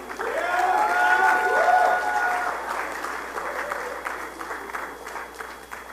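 An audience at a congress gathering claps in a sustained round of applause, loudest early and then slowly thinning out, with a voice briefly carrying over the clapping near the start.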